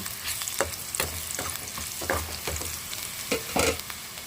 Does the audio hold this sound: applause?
no